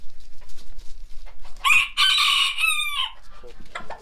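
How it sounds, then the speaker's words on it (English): A rooster calling his hens makes a series of clucking, crowing calls close by, one long drawn-out call in the middle, with soft background noise around it. "He is calling his hens."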